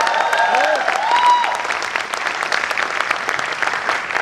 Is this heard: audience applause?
yes